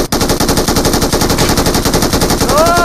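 Rapid automatic gunfire from a mobile shooter game played on an iPad, a loud, dense and continuous burst of shots filling the whole stretch with no pause.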